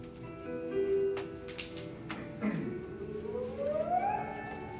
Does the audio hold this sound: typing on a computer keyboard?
no